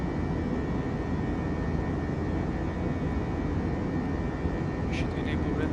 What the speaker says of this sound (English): And we have a safe takeoff.